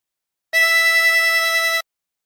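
One steady harmonica note, blown on hole 8, held for a little over a second at an even volume with a clean start and stop, with silence on either side.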